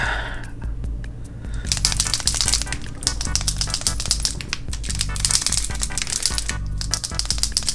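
An Archer & Olive acrylograph paint pen is shaken hard, its mixing ball clicking and rattling in fast, continuous rhythmic bursts close to the mic for several seconds.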